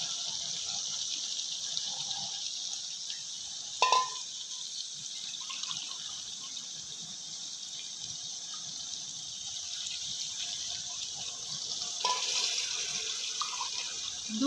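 Water pours into a pot for beef yakhni polao, a steady hissing stream that runs continuously with a couple of brief clunks and splashes along the way.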